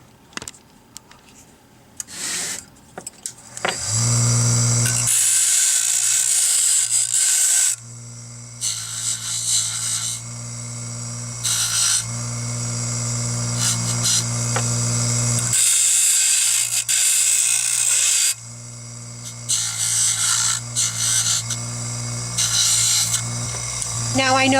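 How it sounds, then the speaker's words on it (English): Mini grinder smoothing the cut edge of a silverware bracelet, a loud, close, high-pitched whirring that runs in long passes with brief pauses between them, while a voice talks now and then. "just to clean off the sharp edge using the mini grinder"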